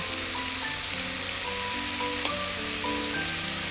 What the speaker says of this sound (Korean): 아보카도 오일도 조금 들어가고 그리고 나서 얘를 살짝 볶아줍니다